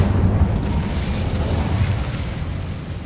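Incendio fire spell cast in the game Hogwarts Legacy, a loud, dense roaring blast of flame that fills the whole moment and tails off only slightly toward the end.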